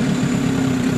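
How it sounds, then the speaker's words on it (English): A small engine idles slowly and roughly after its idle is turned down, a steady low chugging drone with uneven pulsing, close and continuous throughout. "it's idling slow now and it's running really rough"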